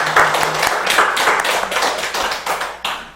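An assembly at a Buddhist Sunday dharma service in a Seoul Seon centre applauds senior dharma companions; many hands clap in a loud, close, continuous patter that thins slightly toward the end.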